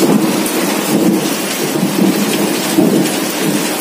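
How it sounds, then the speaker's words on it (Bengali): Hail pattering hard on a house roof during a violent thunderstorm, a dense, loud, unbroken patter of hailstones and rain with thunder rumbling underneath for the whole stretch. "শিল পড়ছে, চালের মধ্যে টুপ টাপ করে আওয়াজ হচ্ছে, প্রচন্ড ঝড় হচ্ছে"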